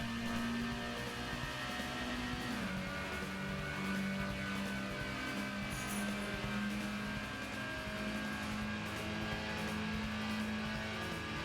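Race car engine in the PlayStation racing game Gran Turismo, a steady loud droning whine that shifts pitch as it changes gear, continuous throughout with no talking.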